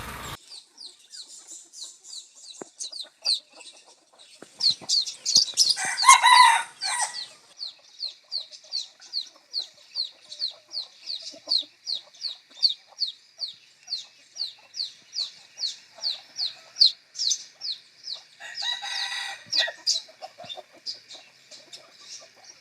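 Rapid, repeated high chirping calls of a small chick or chicks, steady throughout, with a few louder bursts of fowl noise in between.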